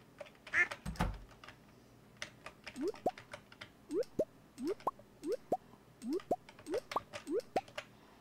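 Game duck in Stardew Valley quacking in a rapid series of short, evenly spaced clicks and quacks, about a dozen brief bursts in a steady rhythm, with a faint voice briefly at the start.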